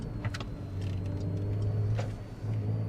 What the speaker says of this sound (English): also shifting down with this throttle blip, really cool